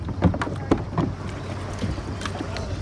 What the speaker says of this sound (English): So we're on the kayaks.